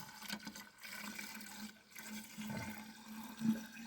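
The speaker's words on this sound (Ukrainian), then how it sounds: "Заливаємо назад наш антифріз." Antifreeze is poured into a Daewoo Matiz coolant reservoir in a steady, soft trickle that gurgles faintly for several seconds, with no talking.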